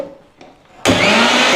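A mixer grinder whirs loudly as it grinds mint, coriander, ginger and tomato, cutting in abruptly after a brief near-silent pause and running as a steady, close, high-pitched roar.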